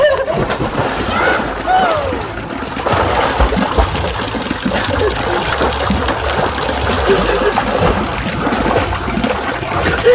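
Continuous splashing and churning water from people jumping into and swimming in cold water outdoors, loud and close, with voices talking and shouting over it throughout.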